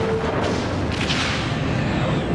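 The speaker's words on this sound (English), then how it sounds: "Torpedoes away." Photon torpedoes fire from a starship in Star Trek: Deep Space Nine, a loud, dense, rumbling boom that fills the whole stretch with steady heavy roar.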